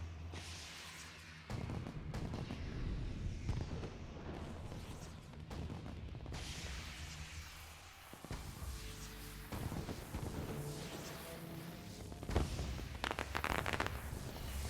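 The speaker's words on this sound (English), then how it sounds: "I wonder why there are fireworks going on." Fireworks bursting in the online game Guild Wars during its anniversary, a series of loud booms and crackling pops spread across the stretch, with a denser cluster of sharp bursts near the end over steady game ambience.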